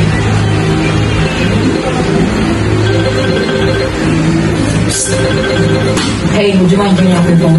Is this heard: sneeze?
no